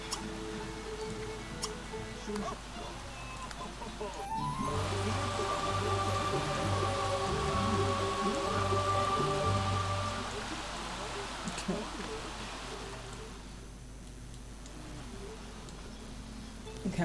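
Steady rain patter from The Sims 3 plays as a constant hiss through the whole stretch, loud for an indoor scene, with game music and tones layered over it and a voice speaking now and then.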